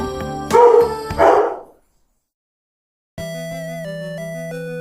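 A short burst of dog barks, then a brief silence before steady music begins.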